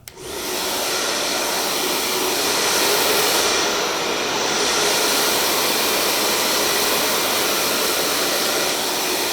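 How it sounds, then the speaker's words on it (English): A hair dryer switches on and blows in a loud, steady whoosh close by, drying hair continuously with a slight shift in tone as it moves. "Once again, come back in with the dryer."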